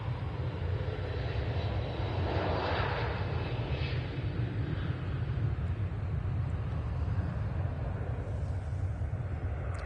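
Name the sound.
Boeing 757 jet taking off from runway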